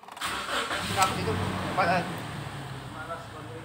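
A 2016 Toyota Innova automatic cranks briefly and catches, then settles into a steady mid-pitched idle close by, with someone talking over the engine noise.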